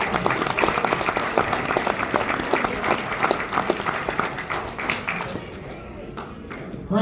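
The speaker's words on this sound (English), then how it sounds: "So have a round of applause for all of our sponsors." Audience applause for the sponsors at a Delta Speedway awards banquet, a dense, steady clapping from a roomful of people that carries on for several seconds before thinning out near the end.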